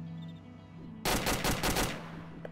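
A close burst of rapid automatic gunfire from the video game Arma, about a second of loud repeated shots after quiet ambience.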